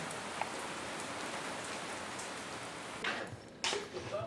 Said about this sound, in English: it started raining harder